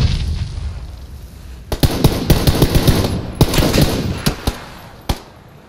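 Bursts of gunfire in the battle royale video game PlayerUnknown's Battlegrounds: sharp shots crack in quick irregular clusters over a low rumble, some loud and close, with isolated single shots near the end.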